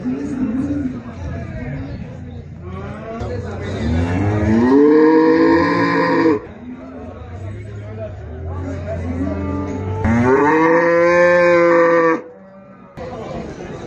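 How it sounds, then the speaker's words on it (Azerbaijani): A Holstein bull calf and other cattle moo at the Maştağa livestock market in Azerbaijan, with two long, loud bellows standing out above a steady hubbub of people talking nearby. "Holstein cinsi erkək dana"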